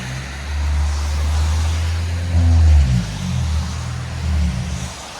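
A lowered 2012 Toyota Prius with a body kit, its muffler deleted and replaced by a Vibrant resonator, gives a deep, steady exhaust drone close by that swells into a short rev midway, with no talking.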